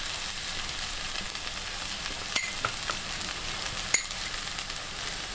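Onions with chili and pepper powder fry in a pan for Kerala egg bonda, giving a steady, close hiss of sizzling oil, broken by two brief sharp clinks, with no voices.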